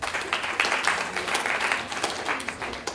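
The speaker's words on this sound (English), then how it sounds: "Pre-law students, give yourselves a round of applause." Brief burst of audience applause at a university lecture event, moderate clapping swelling and fluctuating over a few seconds.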